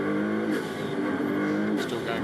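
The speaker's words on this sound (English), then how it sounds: "The only car out there on track at the moment, Fernando Monja. And we ride on board" Onboard engine of a Ferrari Challenge race car in qualifying at Spielberg, running through a warm-up phase. Its loud, steady drone rises and falls slightly as the throttle is worked, with a brief higher burst near the end.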